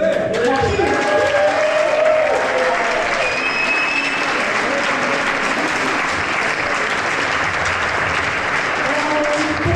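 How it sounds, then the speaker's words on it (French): A tango marathon audience at Rouen Tango en scène claps loudly and steadily, a dense wash of applause with some voices and a couple of whistles over it. "Aussi un gros applaudissement."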